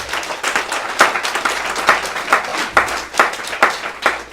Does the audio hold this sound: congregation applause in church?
yes